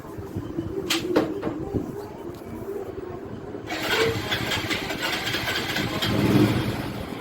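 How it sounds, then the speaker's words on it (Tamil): A Honda Passion Pro motorcycle engine starts up close by and settles into a steady, rumbling idle that grows noisier after a few seconds. "இது வந்து வண்டி வந்து passionpro. வண்டி இப்போ ஸ்டார்ட் பண்ணலாம்."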